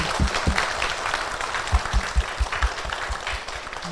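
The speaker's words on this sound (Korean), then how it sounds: "이야기 나눠주신 분께 다시 한번 박수 부탁드립니다" Audience at a live podcast recording applauding a guest speaker, a full steady wash of clapping with some louder thumps near the microphone, continuing for several seconds with no talk.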